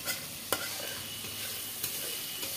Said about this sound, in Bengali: এই মশলা নেড়ে নিলাম